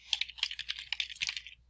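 Rapid, crisp keystrokes on a computer keyboard as an email address is typed, a quick irregular run of clicks heard up close with no talking.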